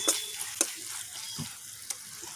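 Spice masala fries in oil for a chicken and potato curry, a steady bubbling sizzle with a few quick stirring clicks and taps against the pot, no voices.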